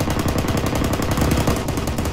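Rapid automatic gunfire rattles without pause in the military shooter Arma 3, dense, loud and close, the bursts running together with no talking over them.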